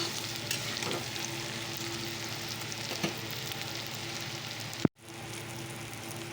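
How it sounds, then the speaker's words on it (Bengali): Ground spices and turmeric fry in a pan for a curry, producing a continuous close sizzle with soft stirring scrapes and a sharp clack near the end, followed by a brief drop in sound. "মশলাটা দিয়ে দিয়েছি হলুদ গুঁড়ো দিয়ে দিয়েছি তো চলো আর একটু ভেজে"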